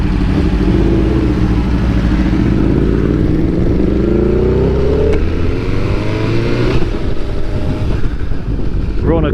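A BMW S1000R sport motorcycle on a quick road sprint, its engine droning loud and close with rising and falling revs as gears change, steady wind rush over the microphone throughout.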